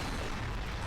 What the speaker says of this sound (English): The Ultra Blitz Cannon, I mean, just look at this. This is such a overpowered weapon.